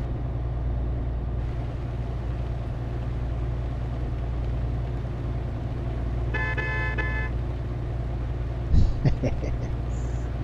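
In Euro Truck Simulator 2, a truck horn sounds one short blast midway over the steady low drone of the engine, followed by a few faint clicks.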